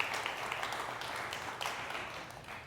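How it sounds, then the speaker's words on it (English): Audience applause for a group of children at a live talk event, a steady, fairly faint wash of clapping that holds evenly for a few seconds. "Will you give our greenhouse kids a round of applause?"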